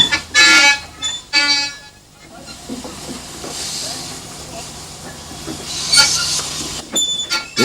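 Narrow gauge steam tank locomotive built in Spain by Babcock and Wilcox: loud bursts of hissing steam open the recording, then a rumbling, clanking engine with steady chuffing and further steam blasts near the end.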